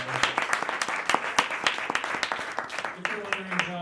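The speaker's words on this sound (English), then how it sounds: "Round of applause for Avery." Small business event audience clapping for the office manager: a loose, fairly sparse patter of individual hand claps from a modest crowd, steady throughout, with a brief tonal sound near the end.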